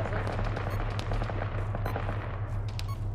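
Distant gunfire from a forest in a military game, with rapid shots and bursts crackling steadily over a continuous low rumble throughout.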